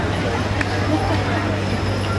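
Horse hooves clip-clop on the ground as horse-drawn carts circle at a Massachusetts county fair. The hoofbeats are soft and steady under the continuous hum of the grounds.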